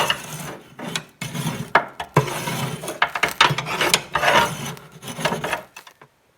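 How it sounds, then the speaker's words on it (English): Soot scraped out of a range chimney flue, a series of rough rasping scrapes and clattering metal strokes in uneven bursts, close and fairly loud, ending in quiet. "So I scrape this out too."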